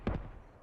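Rockets fire in a video game as two quick, loud bursts in rapid succession, followed by a fading rumble.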